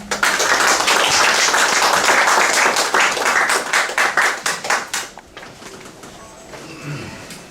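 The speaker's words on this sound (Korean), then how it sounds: "큰 박수로 맞이해 주십시오" An audience claps loudly as a speaker is welcomed at a public talk on Korean independence; dense, steady applause fills the first five seconds, then breaks into scattered claps that fade to near silence.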